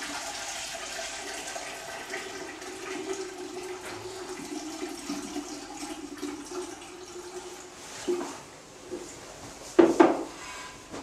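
Three litres of liquid poured into a pumping-circuit tank, giving a continuous gurgling, sloshing flow that rises near the end with a couple of knocks of the container, heard without talk.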